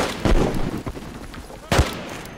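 Gunfire in the online PC first-person shooter Army Troop, with a few sharp, loud shots in quick bursts, close by and punchy.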